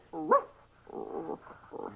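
Human voices imitate dog barks: one sharp yelp followed by a few rougher, growly barking bursts, close and moderately loud.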